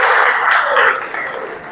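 Students in a classroom give a short burst of loud clapping that tapers off toward the end.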